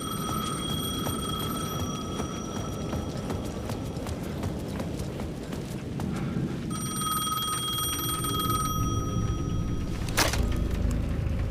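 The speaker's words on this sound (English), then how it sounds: "The payphone at the edge of the plaza was ringing again." A payphone at the edge of a plaza in the video game Alan Wake 2 rings in bright, repeated electronic bursts over a busy background, with a sharp louder hit near the end.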